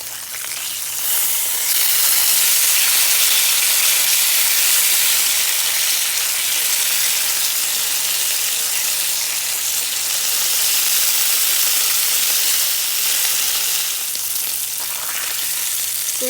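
Ham sizzles steadily in a hot cast-iron skillet, a loud, continuous crackling fry with no one speaking.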